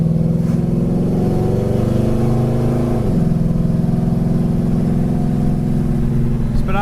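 A 1970 Pontiac LeMans hot rod on the road, its V8 rumbling in a steady, loud low drone with a brief shift in pitch midway, heard from inside the car.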